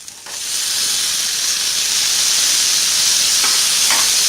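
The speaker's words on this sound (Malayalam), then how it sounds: "നന്നായിട്ട് ഇളക്കി കൊടുക്കുക." Onion and tomato frying in a pan for a tomato-onion chutney, a steady loud sizzle and hiss that holds throughout, with a couple of brief scraping stirs near the end and no talking.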